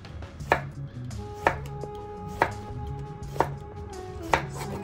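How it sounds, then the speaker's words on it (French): A knife chops vegetables into rounds on a board for a seared tuna and vegetable gratin: five crisp, evenly spaced chops, close and clear, over faint steady background tones. "il s'agit simplement de couper tout en rondelles."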